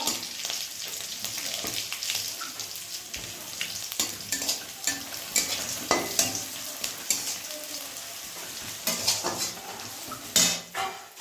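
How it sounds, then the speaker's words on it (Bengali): Onions and cumin frying in a pan while cooking an egg curry, with a continuous sizzle broken by frequent clinks and scrapes of a utensil stirring against the metal, close by and moderately quiet. "পেঁয়াজগুলোকে একটু সাইড করে ওপর দিকে তুলে রেখে একটু ভাজা হলে ওগুলো নামিয়ে দেবো।"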